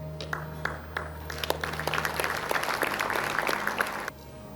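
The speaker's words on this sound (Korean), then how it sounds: "여러분 다시 한번 큰 박수로 축하 부탁드리겠습니다." An audience bursts into applause at the Daegu Chamber of Commerce 2025 New Year business gathering, sparse claps building into full, steady clapping over a low hum, then cutting off abruptly.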